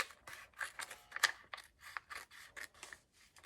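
Scissors snipping through a piece of heat transfer vinyl for layering on a shirt, a string of crisp, close cuts repeating at an uneven pace, with one sharper snap near the middle.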